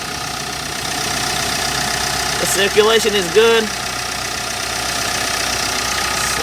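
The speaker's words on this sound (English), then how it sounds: "Here's the engine, sounds good." Hyundai Porter Super Cargo truck engine idling steadily at close range under the open hood, with someone speaking briefly over the even rumble.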